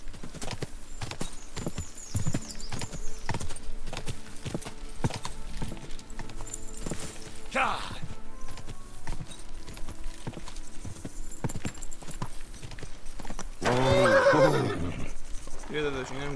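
A horse in Kingdom Come: Deliverance 2 walks with a steady clip-clop of hooves. About two-thirds of the way through, it lets out a loud, close whinny. Someone talks quietly in the background at times.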